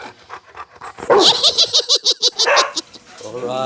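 A pet dog barks and yelps in an excited rhythmic run of about ten quick barks at close range, around dinner time at home in Phuket, with a person's voice and laughter mixed in.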